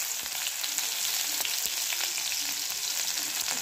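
Chopped onion fries in hot oil with cumin seeds and curry leaves, a steady close sizzle with faint crackles throughout.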